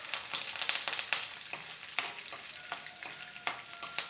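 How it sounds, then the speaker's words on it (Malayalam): Curry leaves and green chillies frying in hot oil, a steady bright sizzle with sharp crackles and pops scattered throughout, close and moderately loud, no talking. "കറിവേപ്പിലയും കൂടെ ചേർത്ത് മൂപ്പിക്കണം"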